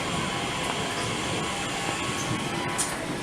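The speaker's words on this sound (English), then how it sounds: "One of the new TfL Crossrail trains." A new TfL Crossrail Class 345 electric train passes close by, a steady loud rumble and rolling hiss of wheels and motors that holds for the whole stretch with no break.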